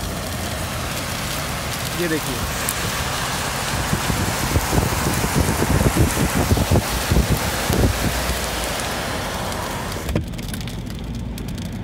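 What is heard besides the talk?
heavy rain heard through lowered car window in Dubai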